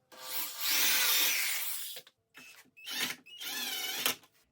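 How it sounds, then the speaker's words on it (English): Power drill boring a pilot hole into a wall stud, one sustained whining burst followed by several short, rising spurts as the bit bites in, close and moderately loud with no voices. "I'll drill a pilot hole right here into this stud"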